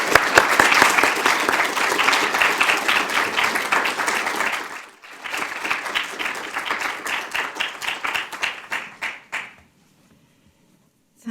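A lecture audience applauds to welcome a professor, with sustained dense clapping that dips briefly, resumes and then tapers to silence after about nine seconds.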